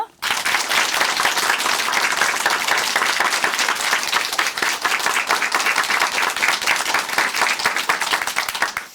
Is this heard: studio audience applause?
yes